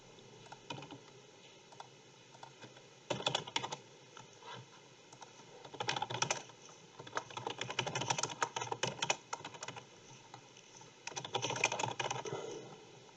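Rapid clacking of a computer keyboard in irregular bursts with short pauses between them, close and fairly soft against a quiet steady background.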